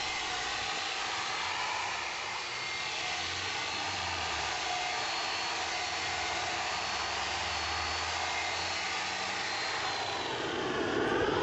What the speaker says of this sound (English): The bare steel is cleaned using a power wire brush.